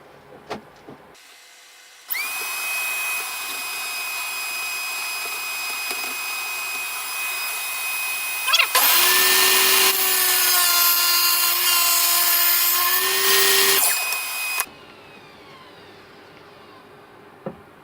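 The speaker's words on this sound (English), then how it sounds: "the extractor's got to go on just in case" A dust extractor roars on and runs loudly while wood is cut with a router nearby, a steady whine joined midway by a heavier grinding cut that stops before the extractor spins down.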